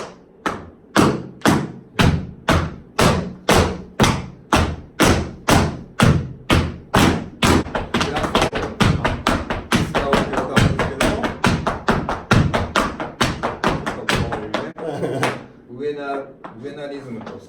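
Tap dance footwork: crisp, loud taps strike in a steady beat, then speed up into dense rapid shuffles before fading out, with talking near the end.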